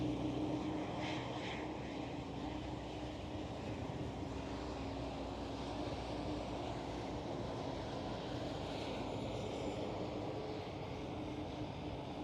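A KLM Cityhopper Embraer E195-E2 jet at Schiphol Amsterdam airport gives off a faint, distant, continuous engine rumble and hum over steady background noise.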